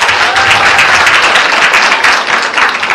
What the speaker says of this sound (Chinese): 我们给自己一个热烈的掌声好吗